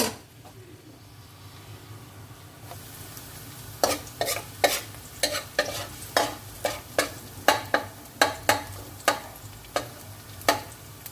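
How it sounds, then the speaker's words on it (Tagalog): Garlic sautéing in a hot pan, a low sizzle at first and then a run of about a dozen sharp, fairly regular spatula scrapes and clinks over the frying. "gisa na natin lagay natin yung ating garlic"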